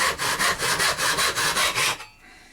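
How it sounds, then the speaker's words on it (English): A hand saw cuts a hardwood jerkbait lure master free in a vise with nine or ten loud, rhythmic back-and-forth strokes close by, then stops abruptly, leaving near silence. "And now I can just cut off the jerkbait or the master here,"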